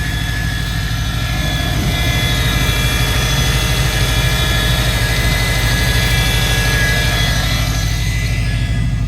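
A car engine idles loud and steady at close range with a constant droning hum; the car is an imported US car shell, and no one talks.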